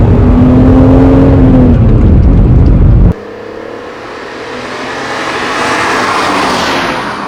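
A BMW Z4 M Coupe (E86) accelerating hard, with a loud, close engine roar that rises in pitch and then cuts away to a quieter, more distant whooshing drive sound.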